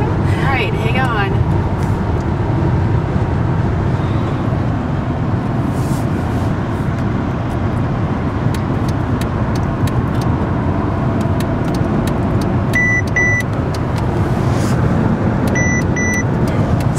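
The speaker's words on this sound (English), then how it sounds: "if there's a car in the lane next to me, it beeps at me, so it warns me not to get over" A Mercedes-Benz S550's blind-spot lane-change warning chimes twice as a short beep pattern inside the car, heard over steady road and engine noise while driving.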